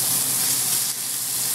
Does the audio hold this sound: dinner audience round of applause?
no